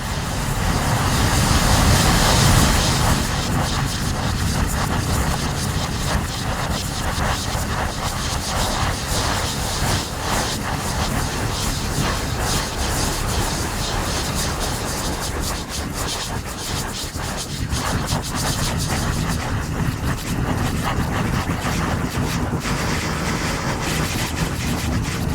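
Dense, creepy granular synth ambience from the Arturia Pigments sample engine, a continuous grainy wash of texture that stays loud and steady throughout, with no voice over it.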